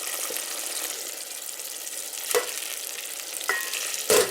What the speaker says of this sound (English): I'm just letting the vegetables now cook in that, and I'm breaking up the broccoli a little bit as it's beginning to cook quite well